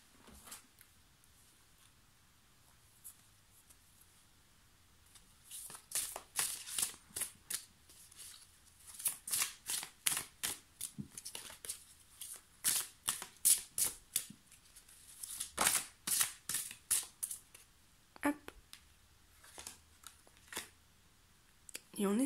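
Oracle cards shuffled by hand during an animal-totem reading, a run of crisp riffling flutters and soft slaps in irregular bursts, close and fairly quiet, with short pauses between.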